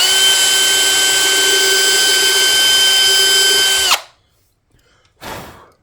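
Small power drill boring out a tuner post hole in a vintage Guyatone EB-2 short-scale bass with a 2.5 mm bit, a steady loud whine running about four seconds, then stopping, followed by a brief softer burst.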